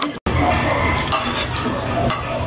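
Shrimp, mussels and blanched squid for garlic butter mixed seafood are stirred hard in a pan, giving continuous loud clattering and scraping of utensil on metal over a low sizzle after a brief drop to silence at the start.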